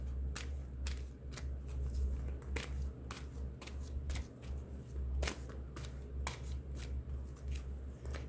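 A deck of cards is riffled and shuffled repeatedly close by, crisp flurries of snapping card edges over a low steady hum, with no talking.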